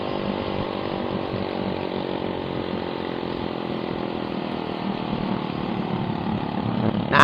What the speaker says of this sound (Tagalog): Ang taas ng minor yata ng motor niya, kaya nagagawa niya yung gano'n